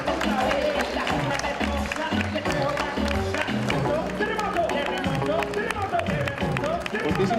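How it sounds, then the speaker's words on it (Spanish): Crowd clapping and cheering for runners at the Ontinyent 10K road race, a dense continuous wash of applause with a race announcer talking over it throughout. "Fortíssim aplaudiment per als corredors"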